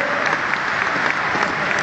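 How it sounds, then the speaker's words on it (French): Brief burst of audience applause at an outdoor motorcycle trial event in Montpellier, dense crowd clapping heard up close, with a commentator's voice faintly over it. "Allez, on applaudit s'il vous plaît"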